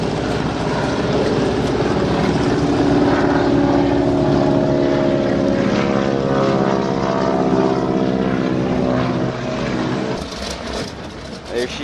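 Propeller floatplane engine at a lake before takeoff, a loud steady drone with layered harmonic hum heard close from inside or beside the plane, easing slightly near the end.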